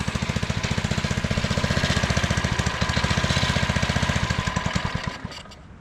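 A Doodlebug DB30 minibike engine idling with fuel leaking from its carburetor, a close, steady rapid chugging thump that keeps an even rhythm before fading slightly at the end.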